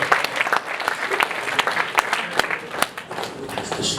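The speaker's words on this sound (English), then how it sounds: "So give Cam a big round of applause" A crowd at a stand-up comedy show applauds comedian Cam Bick as he takes the stage, with moderately dense, uneven clapping and a few sharp individual claps standing out.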